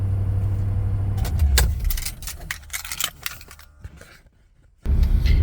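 A Mercedes engine idles in park at low revs after an idle control fault was fixed, a close low hum that gives way to clicks and jangling, goes nearly silent, then returns strongly.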